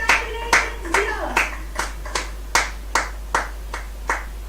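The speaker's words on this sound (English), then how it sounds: "We request you all to give a big round of applause to the best orator of today." Clapping for the best orator at a school elocution competition: a steady, evenly spaced series of about nine sharp claps, fairly quiet, over a constant low hum.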